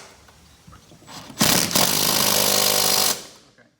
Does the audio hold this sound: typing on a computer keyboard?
no